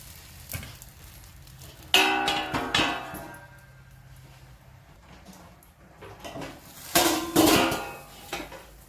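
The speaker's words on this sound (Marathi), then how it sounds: "झाकण काढलेलं आहे पहा" Metal lid lifted off a pan of dosa cooking on a hot griddle: sharp clanks and clatters of utensils at two moments, with a soft sizzle running between them, close and fairly loud.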